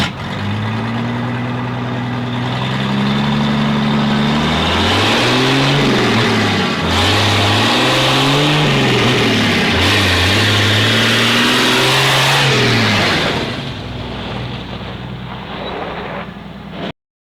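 A loud engine roars close by as a vehicle drives past, the pitch climbing and falling through several gear changes, then fading as it moves away. The sound is rough and heavy, with no voices.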